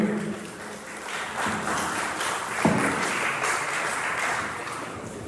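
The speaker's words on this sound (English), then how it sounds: "Please, a round of applause for him." Steady applause from a crowd, a continuous wash of clapping at moderate loudness throughout with no talking.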